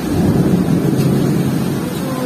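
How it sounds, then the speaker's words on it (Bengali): Heavy thunderstorm rain in Dhaka during a power cut, heard as a loud, steady wash of downpour and rumbling wind noise throughout, with no distinct thunder crack. "ঢাকাতে এই যে প্রচন্ড ঝড় বৃষ্টি শুরু হয়ে গিয়েছে"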